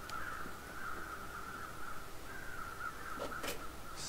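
Crows cawing in the survival game The Long Dark, a steady run of harsh caws over a constant wind-like hiss, with a few brief sharper calls near the end.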